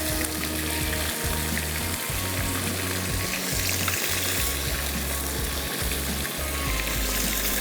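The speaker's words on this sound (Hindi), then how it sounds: "और खूब अच्छे से इसकी करनी है भुनाई।" Boiled meat frying in a pot with masala, a dense, loud sizzle running throughout, broken by a few low thumps and scrapes as it is stirred.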